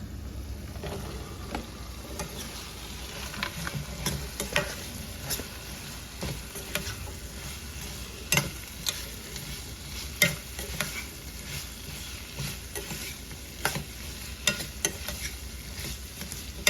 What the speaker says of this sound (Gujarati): તો હવે આપણે આ કંકોડા નાખી દઈશું